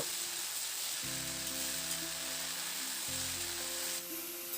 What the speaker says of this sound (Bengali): এবার শাকটাকে ডালের সঙ্গে খুব ভালো করে নাড়াচাড়া করে একটু মিশিয়ে রান্না করে নেব